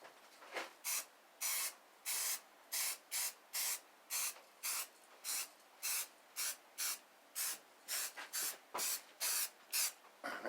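Short repeated bursts of aerosol spray paint from a can coating a mini bike part during a Honda engine swap, about twenty hissing puffs in steady rhythm, close and alone.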